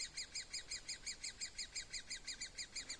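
Woodpecker chicks calling from a nest, a steady rapid series of high, thin begging chirps repeating evenly, alone over faint background hiss.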